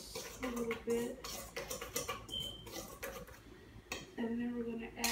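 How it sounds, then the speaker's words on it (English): A utensil stirs dry ingredients with baking powder in a bowl, producing scraping taps and clinks in uneven bursts, with a voice heard intermittently around the stirring. "I usually like to stir together my dry ingredients a little bit"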